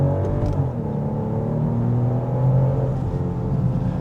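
A BMW X7 xDrive40i luxury three-row SUV accelerates gently at light throttle, its engine giving a steady, smooth low hum and rumble heard from inside the cabin with no talk.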